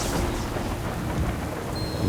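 A summoned thunderstorm in World of Warcraft: The War Within rumbles as loud, continuous thunder layered with dense rain noise, filling the whole clip without any speech.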